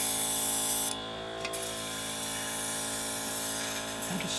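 A steady mechanical hiss of an airbrush spraying paint thinner continuously, with a brief dip partway through and faint clicking toward the end.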